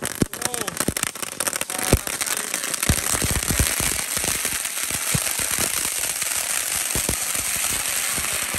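Rapid strings of dino-egg firecrackers, four boxes lit at once in water, pop and crackle in dense bursts, loud and close, with voices talking underneath.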